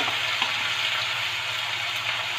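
Vegetable tikki shallow frying in oil in a pan, a steady close hiss of sizzling that runs evenly throughout with no pauses and no talking.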